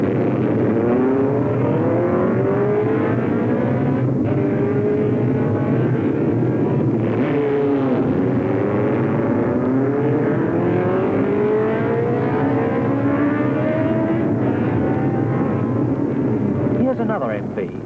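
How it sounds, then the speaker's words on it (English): MV Agusta four-cylinder racing motorcycles pulling away for a practice lap on the Isle of Man mountain circuit, engines rising and falling in pitch as they accelerate, with a narrator talking over the sustained roar. "contrast the little Honda engine with the mighty MV4s of Surtees and Hartle as they get away for a practice lap on the mountain circuit"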